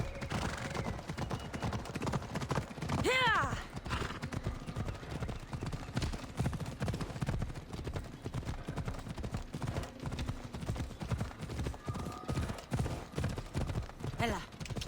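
Horse hooves clip-clop steadily in the video game Assassin's Creed Odyssey, the rhythm close and constant, with a brief whinny early on and occasional other game sounds underneath.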